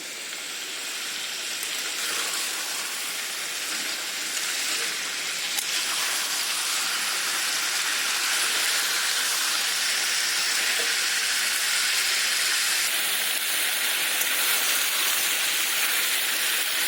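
Steady, loud sizzling hiss of spices frying in hot oil in a pan over a raised gas flame, continuous and unbroken throughout with no talking.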